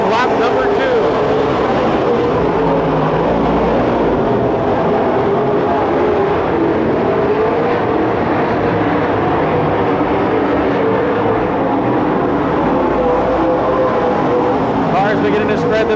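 Super stock race cars roar around Petaluma Speedway during the main event, a dense, loud and continuous engine drone under a race announcer's commentary.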